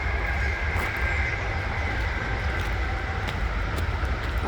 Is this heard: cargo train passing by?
yes